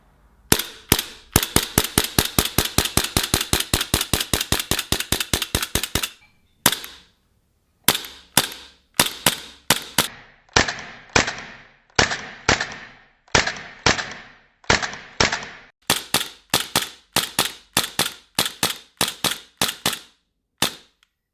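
Tokyo Marui M&P9L ported gas blowback airsoft pistol firing many sharp, close cracks: a fast, regular string of shots, a pause, then slower separated shots and short bursts.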